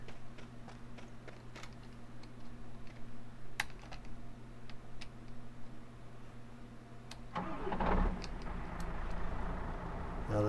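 A truck drives in the video game The Front with a steady low engine drone and scattered clicking taps. The engine swells louder and rougher near the end as the vehicle pushes forward.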